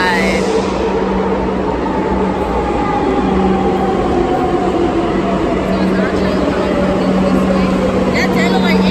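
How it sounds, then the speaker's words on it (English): A Madrid metro train pulls into a station on the opposite platform, its steady loud rumble and a rising electric whine filling the platform while people talk over it. "Not our train though."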